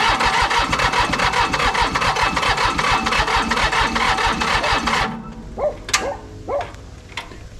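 An old commercial diesel mower engine, left rotting in a field for 20 years, cranks hard and fast with a steady chugging rhythm for about five seconds, then cuts off, leaving a few faint clicks and knocks.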